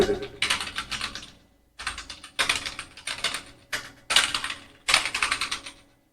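Keys clatter on a computer keyboard during an online typing test, coming in quick rattling bursts separated by brief pauses, fairly close and clear with no talking over them.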